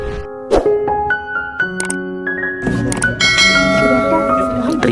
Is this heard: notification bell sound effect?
yes